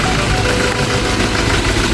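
A 2020 Toyota Hilux Revo 2.4 pickup engine idles steadily and close by, a continuous even rumble with a faint rattle.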